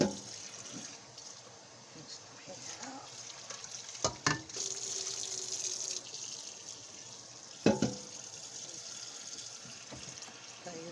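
Water poured from a pot into a kitchen strainer, a steady rushing splash that runs throughout, close, with a few sharp clanks of cookware along the way.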